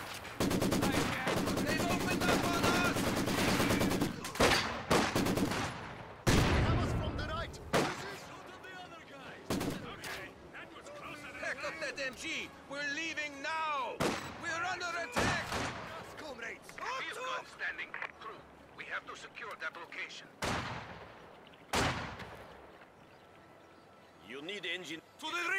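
Heavy machine-gun bursts and artillery blasts fill Company of Heroes 2 combat, with dense, repeated gunfire and several loud booming impacts running throughout. Voices are heard in between the shots.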